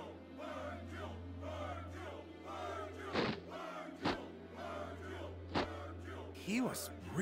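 A crowd cheering in the stands of a fighting arena in Dragon Ball Xenoverse, a steady roar under game character voices, punctuated by a few sharp thuds.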